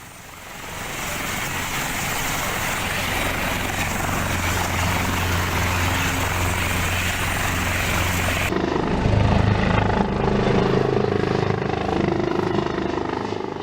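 Helicopter flying past during an escort of a body transfer in Mimika, Papua: steady loud rotor and engine drone throughout, shifting in tone partway as it passes, with no talk.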